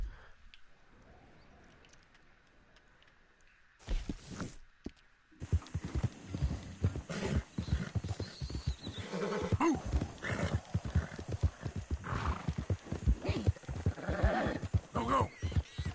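Horse in Red Dead Redemption 2 galloping with rapid clip-clop hoofbeats and whinnies, loud and continuous after a quiet opening stretch, with a rider's voice coming through at times.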